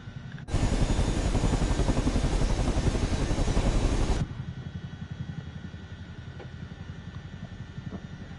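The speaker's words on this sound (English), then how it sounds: "Just watching another Chinook dance." A Chinook helicopter's heavy rotor and engine roar holds steady and loud for several seconds, then cuts off abruptly to a fainter, continuous rumble.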